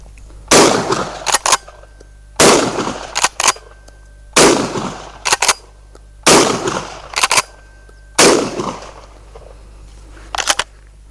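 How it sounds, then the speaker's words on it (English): Dickinson Arms T1000 straight-pull tactical shotgun fired outdoors: five loud, sharp blasts spaced roughly two seconds apart, each followed by the quick double clack of the manual action being cycled. "just run all these different shots through the shotgun"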